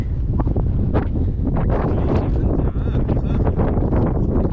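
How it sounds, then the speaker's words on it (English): Strong, steady wind roars across the microphone for the whole stretch at Roman ruins on Kerkennah Island, a dense rumbling buffet with gusty rustling on top. "Oh, it's windy again, it looks like."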